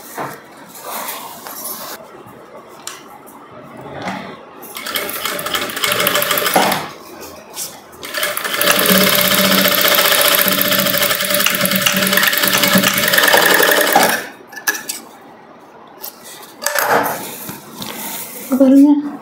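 A sewing machine stitches fabric for a long gown, folded over a cord, in a sustained loud run of stitching after shorter bursts, close up. A person talks before and after the run.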